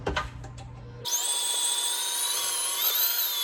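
An electric mixer creams butter and cream cheese for cake icing, switching on abruptly after a brief moment of background sound and then whirring steadily and loudly to the end.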